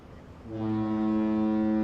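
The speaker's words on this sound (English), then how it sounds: "Oh, you hear the boat?" A boat horn sounds nearby, one deep, steady tonal blast that starts abruptly and holds strong for over a second.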